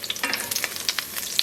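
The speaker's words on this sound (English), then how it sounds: "So I'm going to cook these garlic cloves through on this about medium heat." Garlic cloves cook in a pan over medium heat for spaghetti all'assassina, a brief, close, steady sizzle speckled with small pops and light stirring clicks.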